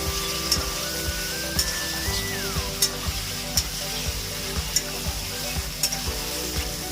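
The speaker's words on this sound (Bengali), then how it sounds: "এবার ধুয়ে রাখা চিকেনটা আমি দিয়ে দেবো।" Washed chicken fries in a browned onion masala with oil separating. It makes a dense, continuous sizzle, and a spoon strikes the pan in a regular beat of sharp knocks about every half second.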